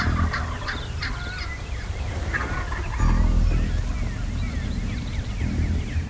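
Wild turkey gobbler in a field edge by timber, gobbling repeatedly in loud bursts, with other turkeys and outdoor ambience around.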